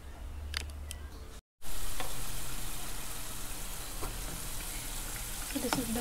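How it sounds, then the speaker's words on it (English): Garlic frying in oil, a continuous crackling sizzle with scattered pops and clicks, close and steady after a brief cut near the start. "So I'm gonna deep fry the garlic first, or fry them."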